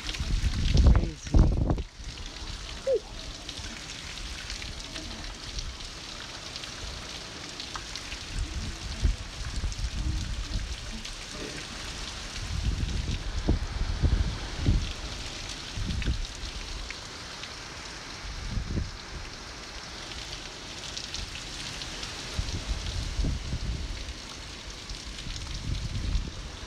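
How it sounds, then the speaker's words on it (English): Heavy rain and wind from Hurricane Eta in Fort Myers, Florida: a steady broadband hiss of downpour with gusting surges and low rumbling bursts throughout, fairly close and loud, with no clear talking. "Pretty heavy rain out here."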